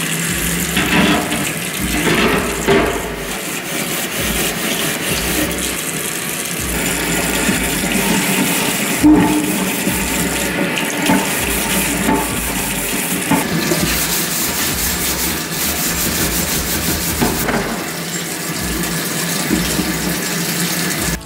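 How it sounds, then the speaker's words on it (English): Oven trays scrubbed with a steel scourer under warm running water, a continuous splashing and flowing sound with irregular scraping strokes mixed in, close and fairly loud with no talking. "So for the trays, what we're using is a steel scourer, just a bit of warm water over the top,"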